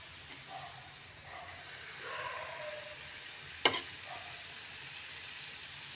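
Rava milk paniyaram deep-fry in oil with a faint, even bubbling sizzle and one sharp click of a utensil midway, heard without talk.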